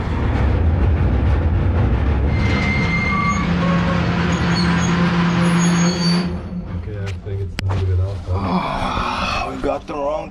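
A train rumbles along a railway line close by, a loud steady roll with squealing and hissing brake-like tones, easing off toward the end as voices talk over it.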